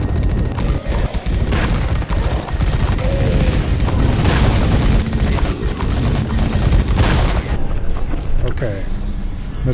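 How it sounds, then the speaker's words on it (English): Sustained suppressive gunfire in the squad tactics video game The Red Solstice, a loud, dense barrage of rapid shots and booming impacts running without pause, with voices talking underneath. "Frosty, turn on suppressive fire."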